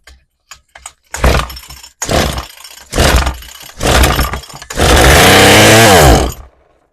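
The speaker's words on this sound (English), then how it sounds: "we're going to give it a couple pulls here" Craftsman two-stroke string trimmer being pull-started, four quick rasping pulls of the starter cord followed by a longer sputtering burst as the engine briefly catches and dies, close and loud.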